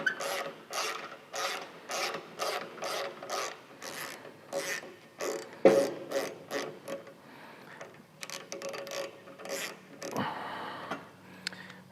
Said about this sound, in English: with this longer wrench here, we can get in with the side covers still there. So I'm just gonna go ahead and take this one out.